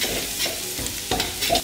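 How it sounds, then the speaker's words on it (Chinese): Minced garlic hits hot oil in a wok and sizzles hard while a spatula stirs it in a few quick scraping strokes, close and brief, with no voices. "锅烧热下油，再下蒜蓉"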